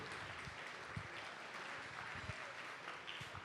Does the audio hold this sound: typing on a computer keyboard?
no